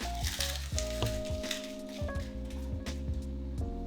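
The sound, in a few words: crispy chicharrones crumbled into sizzling salsa verde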